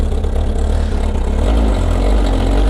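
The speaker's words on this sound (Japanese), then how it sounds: "エンジン壊れないでね、止まんないでね" A Kawasaki ZR7S motorcycle engine idles close by, a loud, steady low rumble that holds an even pace throughout, with no voices over it.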